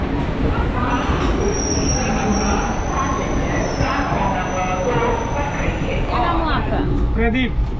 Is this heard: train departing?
yes